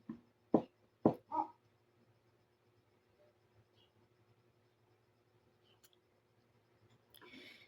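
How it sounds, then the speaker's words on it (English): A dog left outside barks about three times in quick succession, moderately close, then falls quiet over a low steady hum with faint scattered ticks. "people just leaving their dogs outside to bark all day"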